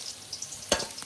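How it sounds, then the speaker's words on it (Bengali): Pieces of rohu fish fry in hot oil with a faint, continuous sizzle, broken by one brief louder crackle. "আর যে 2 পিস মাছ আছে সেগুলোও ভেজে নেব।"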